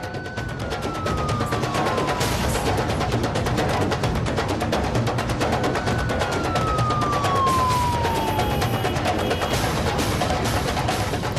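Sirens wail in long rising and falling sweeps over a dense, constant roar of traffic and commotion, loud and close throughout.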